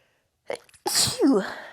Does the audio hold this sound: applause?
no